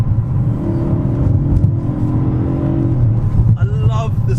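BMW M3 engine revving on a drive, a loud, close growl that holds steady and then climbs in pitch near the end.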